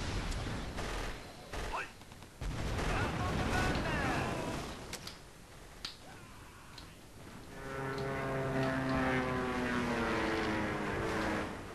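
Warplanes roar in the 2004 strategy game Axis and Allies during a battle for Australia, with a steady engine drone that swells louder toward the end, mixed with scattered bursts of gunfire and game battle noise.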